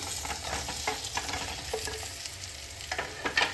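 Poha snack balls crackle and sizzle in hot oil tempering in a pan, with stirring scrapes and occasional louder spatters, steady and close.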